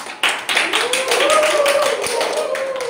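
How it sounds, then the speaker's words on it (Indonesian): A classroom group claps together during a microteaching biology lesson, a steady patter of hands lasting several seconds while a teacher's voice carries over it. "Tepuk tangan dulu untuk kita."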